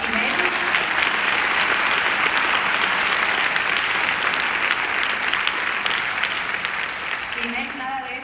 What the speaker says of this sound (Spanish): le damos un aplauso al doctor Jimmy Goodman